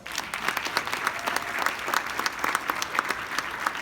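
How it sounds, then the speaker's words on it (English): An audience at an honoring event applauding an introduced speaker, with sustained, dense clapping from many hands at a steady, even level throughout. "That deserves a round of applause."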